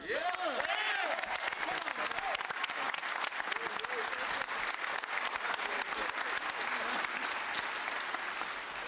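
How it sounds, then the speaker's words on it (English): Sustained audience applause at a Denver memorial service for George Floyd, welcoming U.S. Representative Joe Neguse, dense and even throughout, with a voice briefly heard over the clapping. "I would like you all to make a round of applause for U.S. Representative Joe Neguse"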